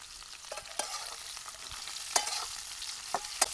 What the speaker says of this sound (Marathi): आणि मस्त आपल्याला तेलामध्ये परतून घ्यायचं इथं